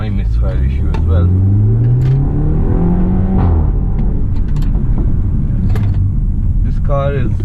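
A 2-generation BMW F30 320i LCI engine rumbles low and steady throughout at about 60 km/h, loud and close, with a voice speaking over it.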